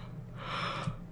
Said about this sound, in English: I'm yawning.